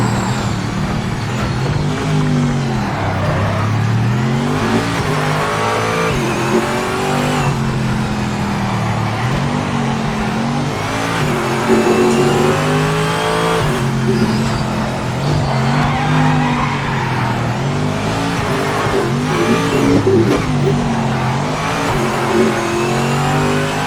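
A Corvette C6 engine in a racing game lapping the Nürburgring GP circuit revs and drops steadily through gear changes, loud and continuous, with hints of tyre squeal.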